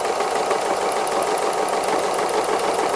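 A sewing machine runs continuously while doing free motion embroidery stitching, giving a loud, even, rapid whirr with no pauses.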